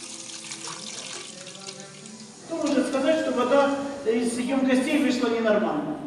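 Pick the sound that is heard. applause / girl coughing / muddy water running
muddy water running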